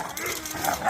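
Kennel puppies playing rough, yipping and barking in a dense, close, continuous scuffle with a person talking over them.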